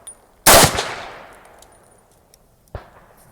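A Polish Tokarev PW wz.33 pistol fires 7.63 Mauser rounds, one sharp loud shot with a ringing decay, followed a couple of seconds later by a smaller metallic clack, with no voices.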